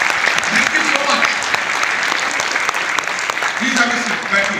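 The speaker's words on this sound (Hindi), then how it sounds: "जोरदार तालियां इन सब लोगों के लिए।" Loud, continuous applause rises from a seated audience in a hall, with many hands clapping close together in a thick, unbroken wash of sound.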